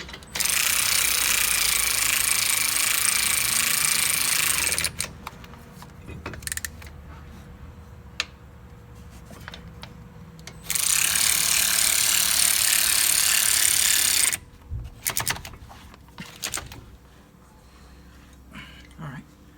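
Tools tightening brake caliper bolts on a 2005 Ford F150 5.4 4WD, with two long loud bursts of power-tool whirring separated by quieter clicks and clanks nearby.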